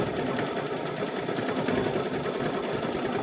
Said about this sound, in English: Just watching it all stitch out is so much fun.